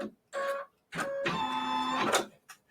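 A quilting embroidery machine stitches a step in several whirring motorized bursts, each a buzzing tone with brief pauses between them, close by and with no speech.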